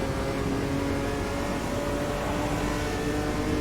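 A Chevrolet Omega race car in Automobilista 2 roars steadily at high revs in a close racing battle, its engine tone holding loud and continuous through a gear change.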